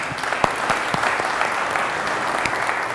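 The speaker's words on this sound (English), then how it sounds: "Big round of applause for Aaron" Steady audience applause at a virtual production industry forum after a presentation, moderately loud with individual sharp claps standing out from the even wash.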